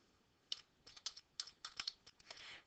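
Quiet, close typing on a computer keyboard, an irregular run of a dozen or so sharp key clicks over a few seconds, with no talking.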